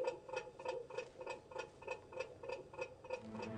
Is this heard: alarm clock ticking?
yes